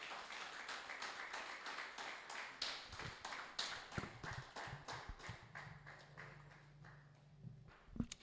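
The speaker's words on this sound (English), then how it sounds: "Let's give her a round of applause." Applause at a 2025 research leadership conference, welcoming Professor Grace Tayo to the podium: steady, evenly spaced claps at a brisk rhythm, close and clear, thinning and tapering toward the end as a low steady hum comes in.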